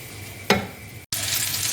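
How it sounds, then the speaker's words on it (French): Cordon bleu stuffed with reblochon fries in a pan, a soft steady sizzle with one brief clunk of the pan, a momentary drop to silence, then a fuller, louder crackle. "une fois que vous avez retourné vos cordons bleus pour qu'ils dorent sur la deuxième face"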